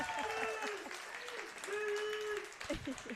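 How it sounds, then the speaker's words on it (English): Live audience applause during a Dallas Cowboys broadcast event, a dense wash of clapping sustained across the moment with voices mixed in underneath. "That's an applause line."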